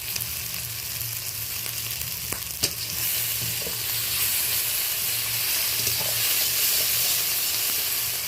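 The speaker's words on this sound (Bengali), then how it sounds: "পেঁয়াজ টমেটো আদা একেবারে ভাজা ভাজা হয়ে গেছে।" Grated onion, tomato and ginger paste fry in oil for a rohu fish curry, a loud continuous close sizzle with stirring scrapes and a few sharp clicks, growing slightly hissier partway through.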